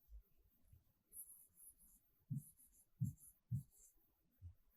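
A teacher writes an observation during a grade six science lesson, giving faint scratchy strokes in short separated bursts with quiet pauses between them.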